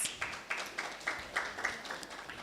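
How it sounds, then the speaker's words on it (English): Fairly faint audience applause at a graduate students' orientation, a steady patter of many hands with soft, regular peaks and almost no voices over it. "Give yourselves a round of applause"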